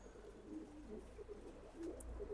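Silver pankhi pigeons coo in a low, steady murmur, with several soft rolling coos across a couple of seconds, close by and fairly quiet.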